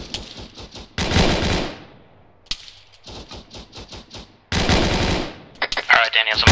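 Gunfire in the video game ARMA 3 sounds as repeated bursts of rapid automatic shots, loud and sharp, with short gaps of quieter single cracks between the bursts.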